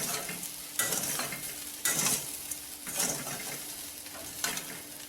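Ground spice powder being stirred into raw banana frying in a pan, with a spoon scraping and turning in several strokes over a steady close sizzle, no voices.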